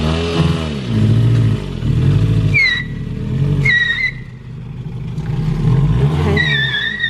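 A car engine labors and revs in repeated surging swells while climbing a steep hill road toward Sirao in Cebu, loud and close inside the vehicle, with brief high squeaks between the revs and no talk.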